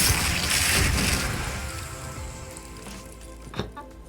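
Rain falls in an animated Castlevania Season 4 episode as a steady broad hiss that gradually fades, with a brief knock near the end.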